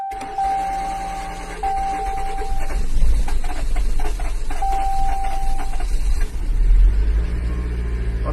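A 2019 Jeep Cherokee with a 2.4-litre engine makes its first start: a warning chime tones twice, then the engine cranks and catches into a steady idle with a couple of revs, close by.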